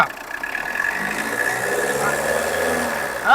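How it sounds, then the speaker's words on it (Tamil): A used car's engine idling with a steady mid-pitched hum and slight vibration, close by, with a short rise in pitch right at the end; a voice talks over it. "பாருங்க, ரேஸ் பண்ணுப்பா."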